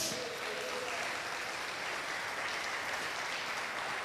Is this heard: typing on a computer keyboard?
no